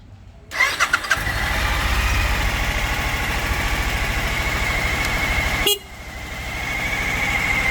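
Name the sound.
motorcycle engine starting and idling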